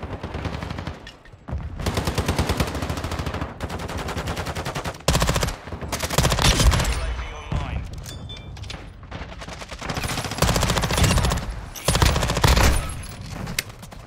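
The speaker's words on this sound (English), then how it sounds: "I was still shooting him on the ground, but didn't get the kill" SMG bursts in Call of Duty Modern Warfare 2 on the Shoot House map with the BAS-P: long, loud sustained rattling volleys broken by short gaps, with dense layered gunfire and no talk.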